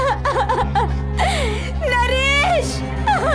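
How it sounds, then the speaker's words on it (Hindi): A woman cries in a horror story scene, with wavering whimpering sobs and moans rising and falling over a low droning background. "उसे किसी औरत के रोने की आवाज सुनाई दी"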